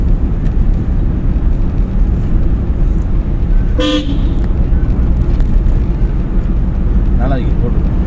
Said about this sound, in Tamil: ஹாரன் அடிக்கிறது